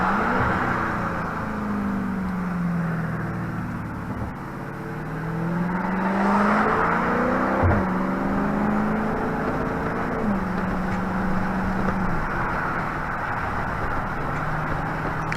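A loud Dodge Charger Daytona 392 engine revs close by, its pitch climbing and falling through several throttle pulls over a constant rumbling drone.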